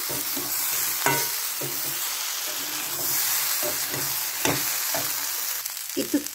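Food sizzles and fries in a pan while a utensil stirs it, with steady hissing under repeated scraping strokes, close and continuous, during cooking of a sheem (flat bean) and eggplant dish.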